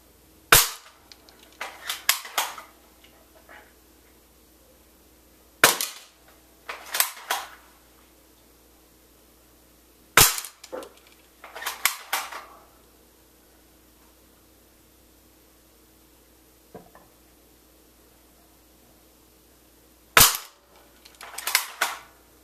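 An M160-B2 airsoft sniper rifle fires Crossman BBs in sharp single snaps, four shots spaced several seconds apart, each followed by clacking rattles of the bolt being cycled in a quiet setting.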